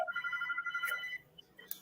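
A phone ringtone chimes close by, a short run of bright repeated electronic tones that fades into a quiet pause before a faint extra blip.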